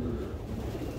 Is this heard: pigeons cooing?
yes